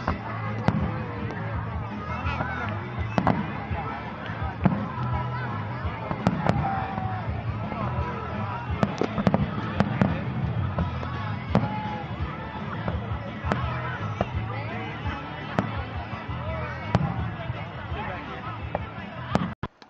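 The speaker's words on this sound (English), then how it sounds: "enjoy the fireworks." Fourth of July fireworks: a dense, continuous stream of scattered cracks and pops, near and far, over a low rumbling hubbub of a crowd with people chatting throughout.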